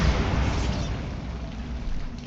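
Bombarda blasting spell detonating in Hogwarts Legacy, a dense, loud rumbling explosion with heavy low-end boom that sustains and slowly decays across the whole moment.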